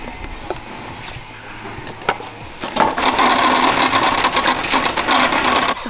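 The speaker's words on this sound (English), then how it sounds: "Somehow, always, no matter where I am, the loud cart." A shopping cart in an IKEA store rattles loudly as it rolls, starting as quieter store ambience and jolting into a constant, clattering metallic rattle close to the microphone.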